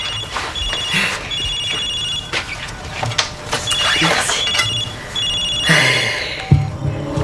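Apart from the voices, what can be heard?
telephone ringing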